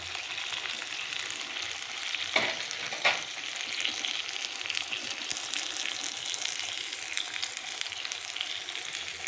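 A big fish turned to its second side fries in a pan at home, a soft continuous sizzle with a couple of brief knocks from the turner early on, fairly quiet and without talking.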